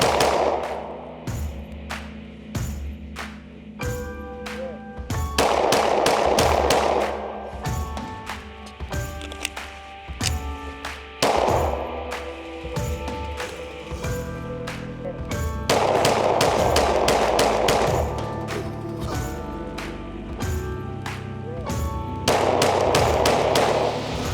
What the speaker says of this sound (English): it will loosen up a little bit, but overall the gun shoots great. It's very easy to shoot.